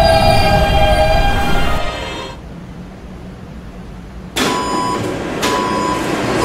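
A D subway train in the Roblox game rolls along with a loud, whining electric drone, drops to a muffled lull for a couple of seconds, then surges back with bright tones.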